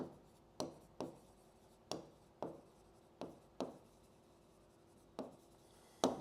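Chalk or marker strokes on a board during a class lesson, a series of sharp taps and short scrapes in an irregular rhythm, close and fairly quiet, with no talking.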